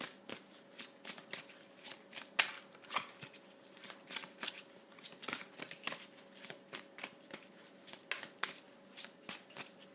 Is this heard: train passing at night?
no